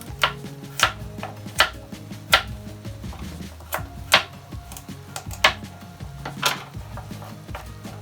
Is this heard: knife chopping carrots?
yes